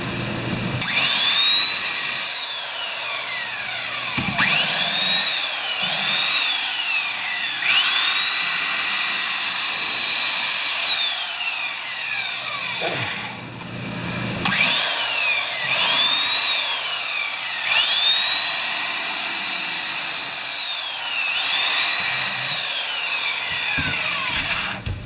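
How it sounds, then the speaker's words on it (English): A belt sander on wood runs in long steady passes of loud grinding whine, each stroke rising and falling, with a short pause near the middle before the sanding resumes. "I think that's enough for the belt sander, too."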